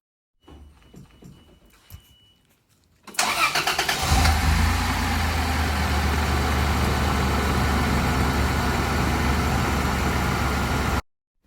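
A Toyota Land Cruiser 80 Series engine cranks briefly after a few faint clicks, catches, and settles into a steady, loud idle after an oil change that runs for several seconds before cutting off.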